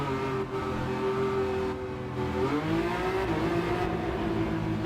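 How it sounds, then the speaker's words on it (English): A modified Ferrari 512 BB engine in Gran Turismo 7 revs steadily and loudly, its tone dipping and then climbing again as it holds a sustained, buzzing drone throughout. "I think I like the sound of a 512 BB"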